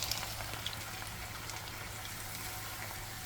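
Chicken pieces fry in oil in a pot, a soft, steady bubbling sizzle at a constant low level with no talk.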